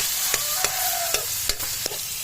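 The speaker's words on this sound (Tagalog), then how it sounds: "gigisa muna natin maigi bago natin ilagay yung buro mga idol" Garlic and tomato sautéing in a pan with a little chili, a steady close sizzle broken by several sharp clanks of a utensil stirring against the pan.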